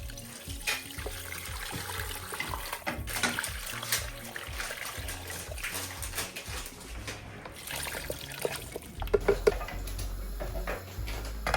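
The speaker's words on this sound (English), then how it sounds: "So I'm now going to remove everything from the large pan and place it inside a pressure cooker." Bone broth poured from a large pan into a pressure cooker, a trickling, splashing liquid flow with intermittent clinks and knocks, close and moderately quiet, no talk.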